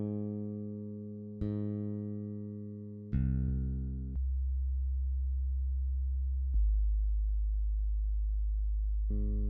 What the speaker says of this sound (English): There's a sub bass made with Logic ES2 synth. It's just a sine bass.